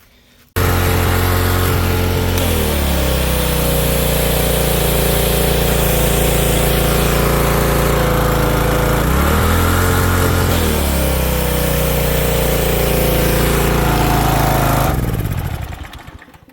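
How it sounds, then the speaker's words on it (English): A pressure washer engine and pump run loud and close under higher pressure load, a continuous droning roar with the pitch dipping twice as the load shifts, then cutting off at the end. "there's a lot more load on the engine, on the pump, with the higher pressure"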